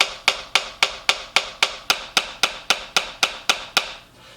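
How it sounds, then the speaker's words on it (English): Drumsticks struck hand to hand on a practice pad, about fourteen crisp, evenly spaced taps at a steady rhythm, each with the same loudness, close and alone before a brief quiet end. "So you're getting the same sound out of the pad, same height, same downward velocity going into the pad to create that sound."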